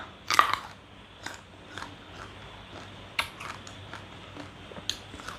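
Crisp, close crunching bites of instant noodles with vegetables, with an irregular rhythm of separate chews in a quiet room.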